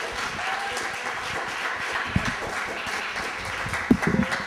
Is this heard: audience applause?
yes